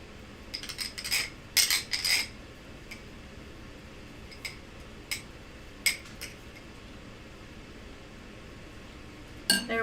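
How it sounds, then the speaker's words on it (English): Sparse metallic clinks and taps of a utensil against a vessel while keto bread dough is smoothed out, a cluster of light clicks early, then isolated taps spread across the rest. "After you get the dough in the vessel, you just smooth it out a wee bit."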